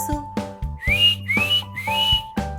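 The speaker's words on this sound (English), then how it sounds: "The tugboat goes whistle." Tugboat whistle in a children's vehicle-sounds song, rendered as three rising, sliding whistle notes in a steady rhythm over a bouncy musical backing.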